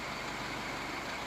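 A Peugeot 504 diesel under restoration idles, its engine giving a brief, faint, low, pulsing rumble under a broad hiss.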